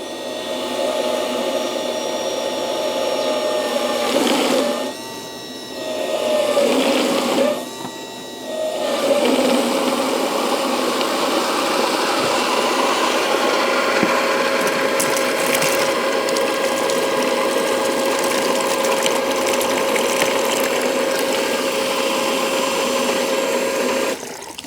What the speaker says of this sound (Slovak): A teraz je počuť, že už začalo čerpadlo naťahovať vodu